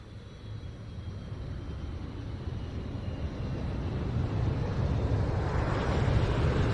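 A Royal Saudi Air Force Airbus A330 tanker arrives at the RIAT 2024 airshow, its broad jet roar swelling steadily and drawing closer without any talk over it.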